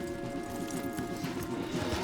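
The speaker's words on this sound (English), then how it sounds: "Okay, let's dismount here. We won't get the horses down this path." Horses' hooves clip-clopping in the Red Dead Redemption 2 video game, a quiet, busy patter of hoofbeats over a low game soundscape, with no talking.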